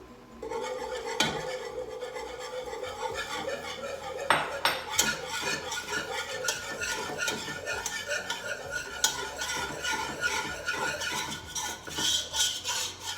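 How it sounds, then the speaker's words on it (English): A whisk rhythmically scraping and clinking against a pot as flour is stirred into melted butter for a mac and cheese roux, close and steady, with a faint sizzle beneath and no talk. "you want to add your flour and stir it with a whisk"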